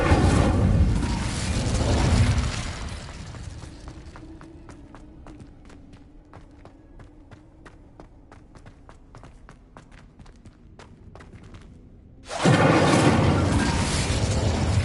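In Hogwarts Legacy, the Incendio fire spell is cast as a loud, roaring burst at the start. Quieter stretches follow with a run of soft, evenly spaced footstep clicks, then another loud fiery blast near the end.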